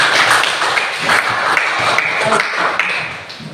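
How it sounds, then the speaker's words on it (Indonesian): Classroom applause during a school lesson: a steady, moderately loud patter of many hands clapping together for a few seconds, with some sharper individual claps before it tapers off. "Tepuk tangan untuk hadirnya semua."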